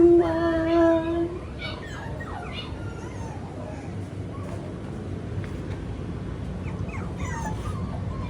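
Micro Petite English Teddy Bear Goldendoodle puppies, six weeks old and held in a laundry basket, let out high whimpers and yips, a clear cry at the start, then scattered soft whines under low handling noise.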